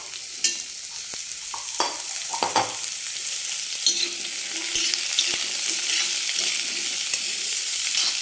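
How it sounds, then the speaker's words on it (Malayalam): Chopped mango stirred and sautéed with shallots in hot oil in a frying pan, a constant close sizzle with scraping spoon strokes and occasional clicks against the pan, no voices. "ഇനി നമുക്ക് ഇതിലേക്ക് മാങ്ങ ഇട്ട് കൊടുത്ത് ഒന്ന് വഴറ്റി കൊടുക്കണം"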